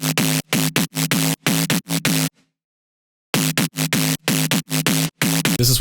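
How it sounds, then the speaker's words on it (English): Nostalgia Main Bass patch from the Serum synth, a buzzy harmonic bass in short chopped stabs that drops out for about a second, then returns in the same clipped rhythm, loud and alone. "the main bass sound of this track. It's called Nostalgia Main Bass"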